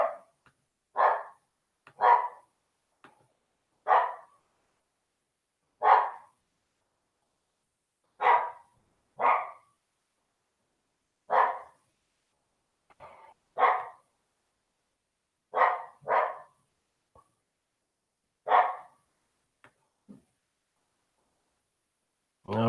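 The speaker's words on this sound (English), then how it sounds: "You guys hear my dog?" A pet dog barks indoors in short, sharp single and double barks spaced a few seconds apart, moderately close, against an otherwise quiet room.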